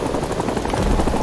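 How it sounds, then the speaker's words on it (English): Helicopter in a plastic army men video game, a steady, loud rotor and engine drone filling the short stretch without a break and with no voices over it. "Oh, spawned in the helicopter,"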